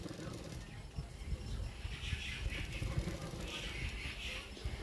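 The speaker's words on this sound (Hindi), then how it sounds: "अब ये पीछे की तरफ मैं फोल्ड करते हुए सिलाई कर रही हूँ" A sewing machine stitches folded blouse fabric, a faint rhythmic mechanical whirring and clatter under a low background hum.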